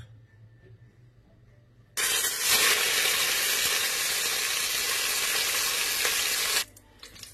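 Food dropped into hot frying oil bursts into a loud, sudden sizzle that holds steady and close for several seconds before cutting off abruptly.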